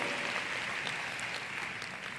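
Steady, dense applause from a large audience, a continuous wash of clapping at even volume throughout.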